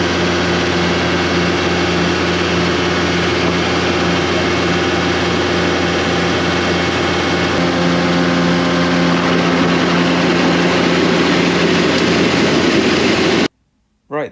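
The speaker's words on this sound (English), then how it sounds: "one more left to suck out" A vacuum tanker engine runs loud and steady while sucking out road gullies, a constant heavy drone with a low hum that stays unbroken until it cuts out abruptly near the end.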